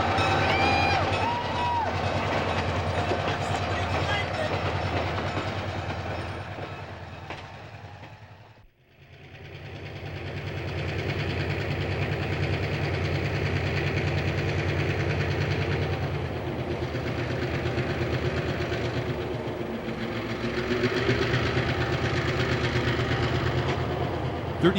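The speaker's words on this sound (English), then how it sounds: "locomotives 1200 and 1201 were finally headed out of town" Simpson Timber locomotives 1200 and 1201 rumble steadily with deep engine drone and faint rail clatter, loud and continuous with a brief dip partway through, during a railroad centennial event.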